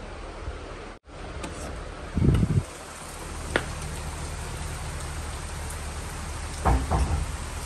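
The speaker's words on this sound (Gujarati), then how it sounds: "ફાઇનલી વરસાદ આવી ગયો." Steady rain falls in a hill-station setting at Matheran, a continuous wash of drops on surfaces with a couple of brief louder low rumbles or knocks partway through, no voices.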